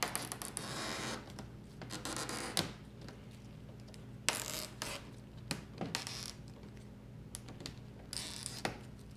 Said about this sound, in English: you can grab the backing from the double-sided tape